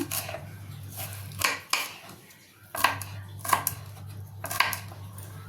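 A knife chops paneer and capsicum on a board, giving a series of sharp, irregular knocks and clicks at close range over a low steady hum, with no voices.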